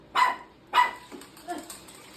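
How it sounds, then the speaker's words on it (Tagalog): Two sharp dog barks close by in quick succession, followed by a couple of softer yips. "Tinatahulan lang niya. Tahol lang pala yun, gumagalaw na eh."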